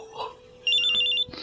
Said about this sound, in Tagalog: Ang cellphone ko.